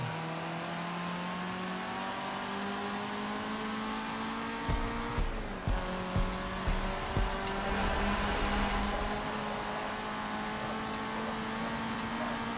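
A race car in the Forza Motorsport 7 video game, running a sport compact career race, holds a steady, loud engine drone throughout, with a short cluster of thumping bumps near the middle; no one speaks.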